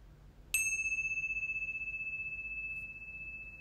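A single meditation bell is struck once and rings out clear and bright, its pure tone sustaining and slowly fading over a few seconds in a quiet room.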